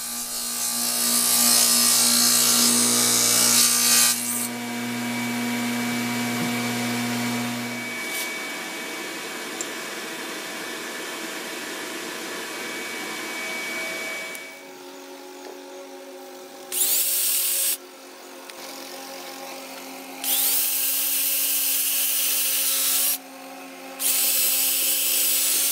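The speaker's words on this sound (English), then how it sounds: "To conceal the brackets, grooves are cut with a dado blade." A table saw fitted with a dado blade cuts concealing grooves into wooden deck rails, a loud sustained whine and rasp broken into several passes with short pauses, no voices.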